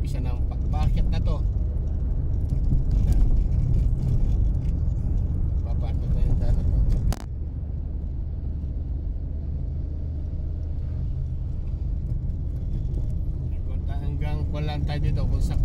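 A car climbs a steep mountain road uphill in third gear, its engine rumbling low and steady close by. Someone talks over it throughout, and the tone shifts abruptly about halfway through.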